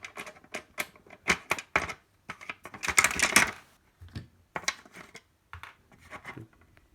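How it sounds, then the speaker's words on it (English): Screws coming out of the side panel of a Tascam 688 MIDISTUDIO multitrack recorder make a run of small, sharp clicks and rattles, loud and close, in uneven bursts across several seconds with no talking. "is to remove those screws. Again, set of 2 screws on each side."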